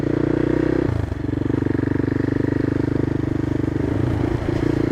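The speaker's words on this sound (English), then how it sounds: "this kind of engine and the sound that comes out of the exhaust just makes you want to change gear" A CCM Flat Tracker motorcycle's engine and exhaust thrum loudly and steadily at close range, holding a throbbing, pulsing note with a brief dip in revs early on, then carrying on evenly with no speech.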